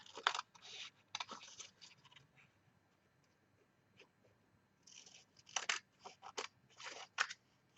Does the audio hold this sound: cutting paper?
yes